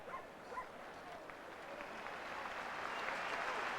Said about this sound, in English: the crowd gives him a nice round of applause